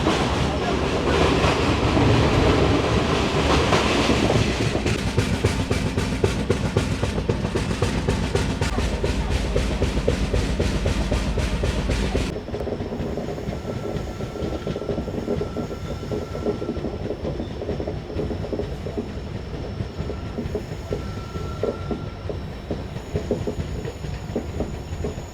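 The 15777 Alipurduar Tourist Express runs through forest with a loud, continuous rumble and rapid rhythmic clatter of wheels on rail, heaviest at first before dropping to a steadier, lighter rolling sound.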